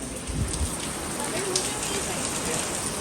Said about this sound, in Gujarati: ધોધમાર વરસાદ આવ્યો.